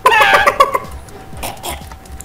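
A Minecraft chicken gives a short run of quick clucks, fairly loud and close, followed by a few fainter scattered sounds.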